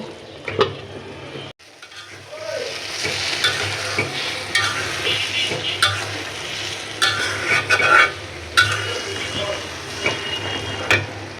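Taro leaves and shrimp stirred and fried in a pan, with a steady close sizzle broken by repeated scraping stirs of a utensil against the pan.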